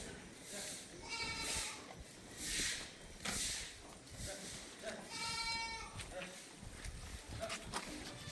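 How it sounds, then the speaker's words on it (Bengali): Goats let out of their shed on a rainy day at a village farm bleat repeatedly in short, close calls. People talk and footsteps move in the background. "এই আমাদের ছাগল খুলে দেওয়া হলো।"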